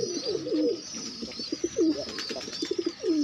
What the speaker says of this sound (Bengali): এগুলোকে বলা হয় দামাসিন কবুতর